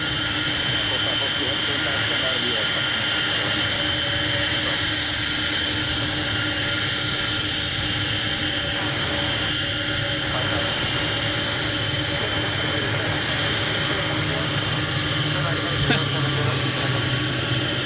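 A steady, droning aircraft engine hums at Boeing Paine Field for the whole stretch, with people talking over it and a brief sharp knock late on.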